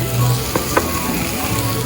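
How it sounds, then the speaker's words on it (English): Steady broadband sizzle of fajitas frying on a hot plate, close and continuous, with a couple of brief clicks and a low hum underneath. "Look at this sizzle."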